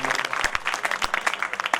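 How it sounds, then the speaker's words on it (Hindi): Brisk, close applause from an audience at a Hindi poetry gathering, many hands clapping in a dense, lively patter with no voices over it. "एक बार तालियां उनके लिए बजा दें।"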